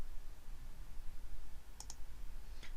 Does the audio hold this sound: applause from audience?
no